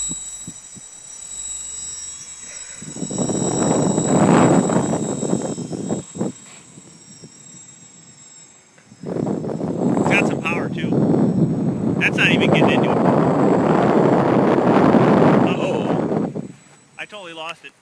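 Gusty wind buffets a flying tricopter drone in two long, loud roaring bursts separated by a quieter lull, with the rush cutting off abruptly near the end.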